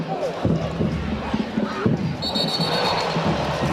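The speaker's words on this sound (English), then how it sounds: "Got a ooh from the crowd on that one" Stadium crowd at a college football game, Hampton Pirates at North Carolina A&T, rising into a broad 'ooh' after a hard tackle, a loud rolling roar with scattered shouts and commentary-style voices underneath.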